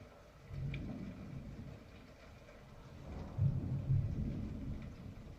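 Low, distant thunder rolls in two swells, the second louder, over a faint background of steady rain.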